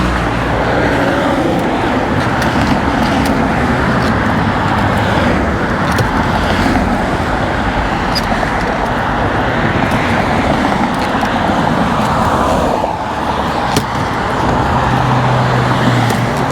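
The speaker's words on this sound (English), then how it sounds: "cars speeding past you 6 feet away from you at 80, 90 miles per hour" Cars speed past on the 110 freeway in Los Angeles, just a few feet from a walkway, at high speed. The steady, loud traffic roar comes from close by, with repeated whooshes of passing vehicles and no pauses.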